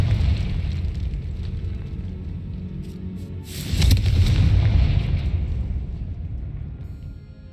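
Confringo blasting spell exploding in the Hogwarts Legacy video game: a steady low rumble, then a sudden loud burst with a bright crackling blast and a long rolling boom fading out over several seconds.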